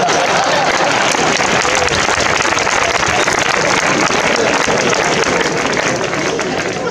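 An audience at a stand-up comedy competition in Villena, Spain, breaks into loud, sustained applause that fills the whole stretch, dense clapping with crowd noise and no break.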